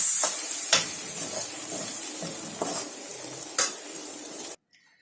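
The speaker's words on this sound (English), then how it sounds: "pour in the lemon juice and the garnish of coriander and give it one final mix." Potato bhaji getting a final stir in a pan with lemon juice and coriander after the gas is switched off, soft sizzling with a few spoon scrapes and taps against the pan, ending in sudden silence.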